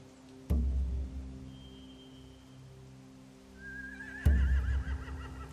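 In a video game, a horse whinnies in a long wavering neigh after a heavy thump, with another loud thud earlier, over a low rumbling ambient background.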